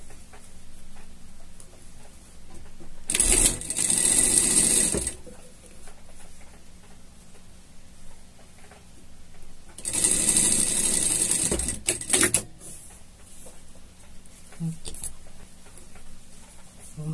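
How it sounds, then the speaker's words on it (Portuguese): A sewing machine topstitches a pocket on a pet harness in two loud bursts of stitching, each about two seconds long, with quieter handling noise between them. "e passamos um presponto nela aqui"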